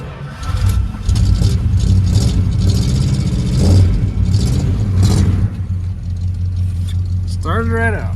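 A Dodge Ramcharger engine starts cold on a day near 30 degrees after gas is squirted down the carburetor, then runs loudly with a deep steady rumble and some revving, close by, as someone talks over it.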